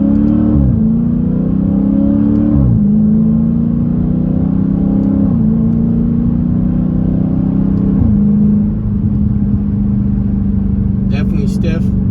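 A Dodge Challenger Widebody on Eibach Pro-Kit lowering springs drives through curves, its engine holding a steady low rumble that climbs and drops back with each of several gear shifts, with a voice speaking over it.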